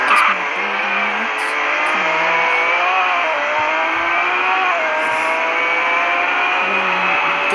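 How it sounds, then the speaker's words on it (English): Engine of a super fast Hennessy car in a realistic car driving video game, revving hard and accelerating with steady rising and dropping tones, tire squeal and skidding layered over a loud, continuous drone. "This car, it's going so fast."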